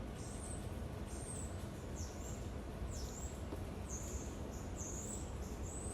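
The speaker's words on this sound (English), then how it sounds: "Can you hear the birds?" Birds chirp outdoors in short, repeated high calls, faint above a steady broadband city background noise.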